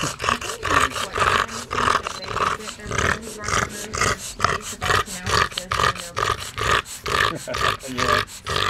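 Loud, hoarse, raspy dog barking repeated in a rapid, steady rhythm close by, each bark rough and breathy, continuing without pause.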